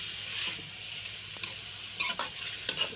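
Mash dal sizzling in a pot while a spoon stirs it, a soft continuous frying hiss with a few scraping clinks of the spoon near the end, close and fairly quiet with no talk.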